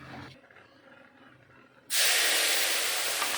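Tempering spices hit hot oil during the cooking of a mixed-vegetable pachon, bursting into a loud, steady, broadband sizzle after a quiet stretch and holding strong to the end.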